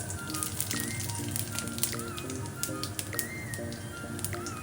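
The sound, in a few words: cumin seeds sizzling as tempering in hot oil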